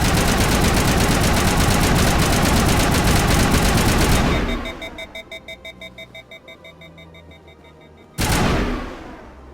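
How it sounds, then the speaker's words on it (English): Automatic rifle fire in Mass Effect, a dense rapid burst for about four seconds, then quieter spaced shots, and a final loud burst resuming near the end. "I can freely walk around with an automatic gun and just start doing this"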